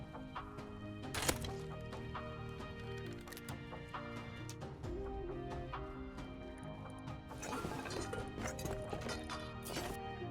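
Rhythmic hoofbeats of a galloping horse in the game Rust run through the whole stretch over a dense, busy game soundtrack, with a couple of sharper crashes along the way.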